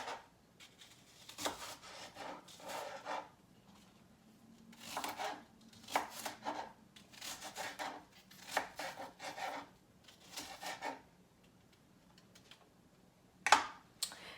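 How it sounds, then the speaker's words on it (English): A knife cutting up an apple on a cutting board, a series of quiet, close chops and taps in irregular bursts with short pauses between them, no talking. "And so I just cut up my apple."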